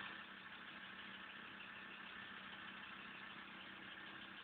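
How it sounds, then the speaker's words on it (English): A Volkswagen LT35 van's engine idles with a rattle, a steady, fairly faint mechanical hum with a continuous buzzy vibration heard from a short distance, with no voices over it. "you can hear it from here, like rattle, rattle, rattle"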